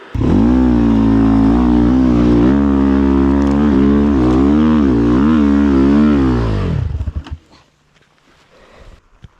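A KOVI Lite 300 motorcycle engine revs hard and close, rising and wavering under heavy throttle for several seconds before dropping away to a faint idle and near silence.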